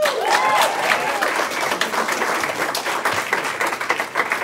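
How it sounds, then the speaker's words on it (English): Crowd applause for Des Moines at a rowdy live show: dense, loud clapping from a room full of people, starting strong with a brief whistle early on and slowly thinning toward the end. "Round of applause for Des Moines."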